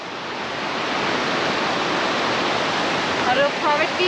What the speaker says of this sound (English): Waterfall. We made it.